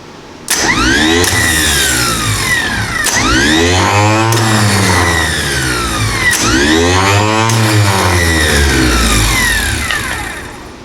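An International 2510B starter motor spins on a workbench in repeated loud bursts, each whirring up and winding down, with a rough mechanical drone and no talking.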